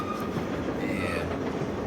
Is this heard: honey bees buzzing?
no